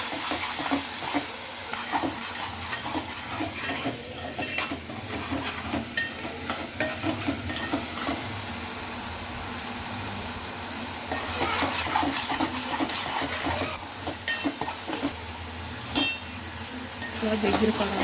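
Chicken curry gravy with tomatoes, salt and turmeric sizzles steadily in a pan while being stirred, with a continuous close frying hiss and occasional scraping.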